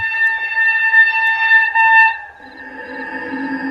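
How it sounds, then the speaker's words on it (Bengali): A train whistle sounds across open fields at a quiet rural station at night, a sustained, loud, tonal blast that shifts to a lower pitch and carries on alone. "মাঠ প্রান্তর মুখরিত করে ট্রেনের হুইসেল ডাক দিল।"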